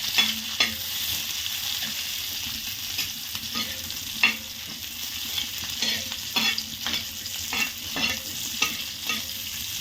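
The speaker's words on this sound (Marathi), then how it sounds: "आता आपण भाजणार आहे मिरच्या थोड्या" Green chillies roast in a hot pan with steady sizzling and frequent scraping, clicking stirs, continuous and close with no voices.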